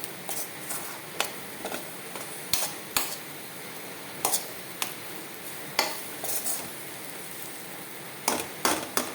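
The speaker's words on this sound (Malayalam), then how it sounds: "മസാലപ്പൊടികളെല്ലാം തക്കാളിയിലും സവോളയിലും പിടിക്കുന്ന വിധത്തിൽ നന്നായിട്ടൊന്ന് ഇളക്കി കൊടുക്കുക" Spice powders stirred into tomato and onion in a pan for green pea curry, a low soft sizzle broken by sharp, irregular spoon taps and scrapes against the vessel, close and without talk.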